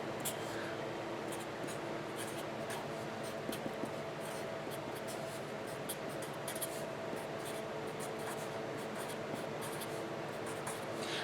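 A pen scratches across a piece of paper in a long run of soft, quick strokes and taps, close but faint against a low steady background hum.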